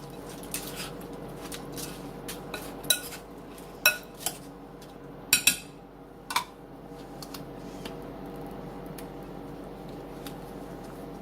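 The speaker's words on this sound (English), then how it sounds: "I'm getting ready to mix it all in there. Just mix it all together." Ground beef is worked into a Mexican meatloaf mixture in a bowl, with scattered clinks and scrapes of a utensil against the bowl and soft squishing, a few louder knocks standing out against a quiet background.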